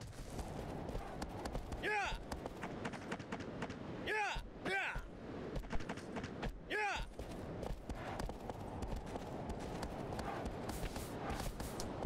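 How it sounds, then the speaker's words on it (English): Horse hooves gallop across open ground in the video game Shadow of the Colossus, a steady rhythmic clip-clop running under wind and other game sounds, with a few louder bursts breaking in. "I'm gonna name the horse Devo"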